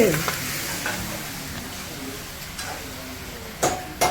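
Masala frying and being stirred in a pan for a Telugu talakaya (goat head) curry, a continuous crackling sizzle with a few sharp utensil scrapes and clinks near the end.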